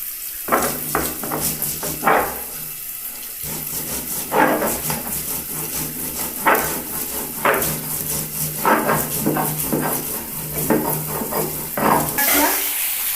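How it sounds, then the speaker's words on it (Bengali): Sesame, mustard and poppy seeds are ground together for a ridge gourd and potato poppy-seed dish, giving repeated rough scraping and knocking strokes in an irregular rhythm, close and fairly loud, with no talk. "তিল সর্ষে পোস্ত একসাথে বেটে নিচ্ছি"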